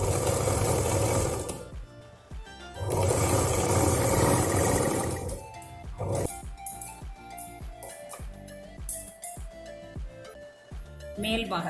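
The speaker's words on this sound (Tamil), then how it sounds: "அதுக்கு இந்த 2 கிளாத்தையும் ஜாயிண்ட் போட்டு எடுத்துக்கலாம்." A domestic sewing machine runs in two sustained bursts as it joins two cloth pieces for an apron, with a steady close whirring, followed by lighter handling clicks and rustles of fabric.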